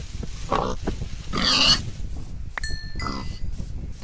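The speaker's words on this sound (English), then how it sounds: "Come back here, little piggy." Pig grunts from a Stone Age survival video game, a few short snorting bursts spread across the clip over steady low background game ambience, with no talking.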